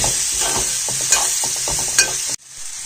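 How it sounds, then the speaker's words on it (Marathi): Spice masala is stirred and sautéed in hot oil in a pan, with a bright steady sizzle and repeated scraping strokes of the spoon, close and loud, then the sizzle suddenly drops away near the end. "मसाला चांगला आपला आता परतवून झाला"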